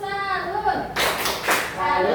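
A class of students performs the 'tepuk salut' clap routine, two short bursts of group clapping cutting through children's voices speaking and chanting around them.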